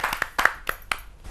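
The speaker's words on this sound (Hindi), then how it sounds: "एक जोरदार तालियों से स्वागत करते हैं।" A handful of sharp, separate claps ring out sparsely from an audience at a Hindi poetry gathering welcoming a poet, close and fairly crisp with short gaps between them.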